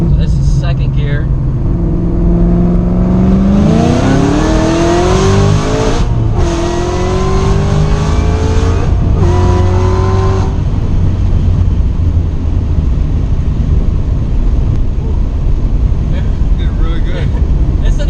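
A 900HP Shelby GT500 on fresh tires pulls hard in second gear, its engine climbing loudly in pitch, briefly dipping, then revving up again before settling into a steady roar, with voices heard in the cabin.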